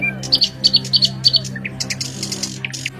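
Cartoon birds chirp and tweet in an animated Hindi moral story, with quick paired bright chirps repeating in a steady rhythm, then looser scattered calls over a soft background hum.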